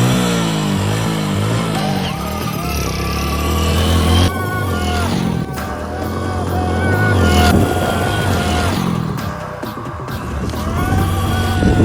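Motorcycle engines revving and passing on a busy road, loud and rising and falling in waves, mixed with other traffic noise.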